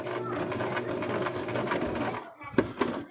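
A sewing machine stitches a plush mouse-witch toy in a straight seam, running steadily and close for about two seconds before stopping, followed by a few sharp handling clicks; faint talk sits underneath.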